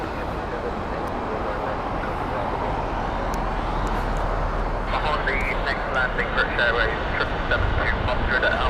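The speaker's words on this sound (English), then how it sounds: "We've got an A380 inbound from British Airways." A British Airways Airbus A380 arrives at Heathrow Airport. A broad, steady jet roar fills the scene at constant loudness, with a person talking over the engine noise.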